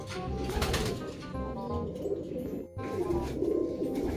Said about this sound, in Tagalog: So eto na po yung ibon